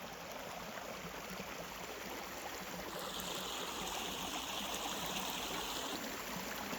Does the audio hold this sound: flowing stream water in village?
yes